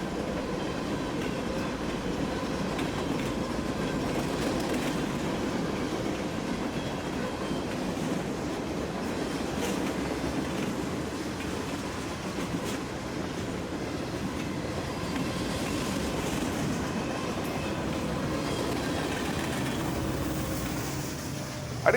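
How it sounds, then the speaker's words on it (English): A Norfolk Southern freight train with a single rear DPU rolls across a trestle, a long steady rumble of wagons with rhythmic clicking of wheels and occasional faint squeals, continuous throughout. "Just as the engines roared by, a single DPU brings up the rear as it clears the trestle."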